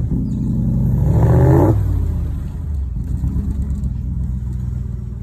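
Close up, a replica Cobra sports car in Antibes, France revs hard in a loud rising surge, then drops back to a steady low rumble as it keeps driving.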